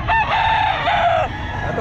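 A bullstag gamefowl crows loudly and close at the Bocaue pet market, one full drawn-out cock-a-doodle-doo with no talk over it.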